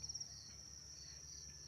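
Crickets raised on a cricket farm chirp in a steady high-pitched trill, faint and continuous, with a low hum beneath and a few soft thumps at the start.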